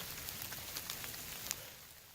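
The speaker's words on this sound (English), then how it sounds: "So it's raining." Rain falling on the Appalachian Trail near a power line clearing, a steady soft hiss of drops with occasional sharper patters, moderately faint and continuous, no talking.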